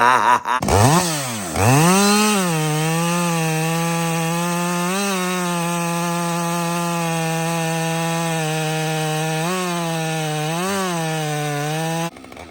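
A Husqvarna 562xp Mark II chainsaw being broken in on its first real cuts through wood: a loud, close, sustained high-revving engine whine after a quick rev-up, holding steady under load with small dips, then cutting off at the end.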